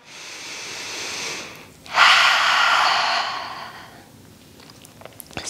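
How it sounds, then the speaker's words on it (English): During a kids yoga session a deep breath is drawn in and then released, a breathy inhale followed by a louder, longer exhale, close to the microphone with no talking. "take a deep breath"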